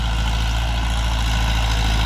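A Ford 6610 4WD tractor runs steadily, ploughing behind a house, with a continuous heavy low engine drone that is loud and unbroken throughout.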